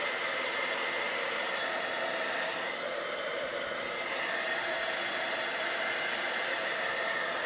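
A handheld embossing heat tool blows a steady, loud, hissing stream of hot air over a sheet of paper being dried for a faux-marble card technique, unbroken and alone with no voices.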